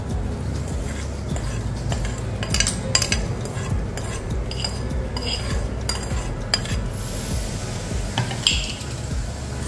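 Grated raw mango pickle being mixed by hand or spoon with a fried tempering of asafoetida, mustard seeds, urad dal, chana dal, cumin and curry leaves, giving steady close squishing and stirring with scattered scrapes and clinks against the bowl.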